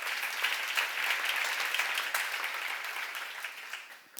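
Audience applause at a church seminar, a steady broad wash of clapping that holds strong then gradually thins and fades toward the end.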